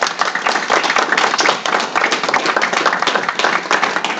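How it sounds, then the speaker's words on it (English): A seated audience at an economic summit gives a panel a round of applause. The clapping is loud, close and energetic, with sharp individual claps over a dense steady patter, and it lasts several seconds without speech. "just give them a huge round of applause if you will"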